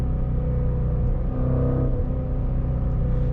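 A sports car engine rumbling and revving under a bridge, a loud steady low drone with a brief swell in pitch midway, heard close and without speech.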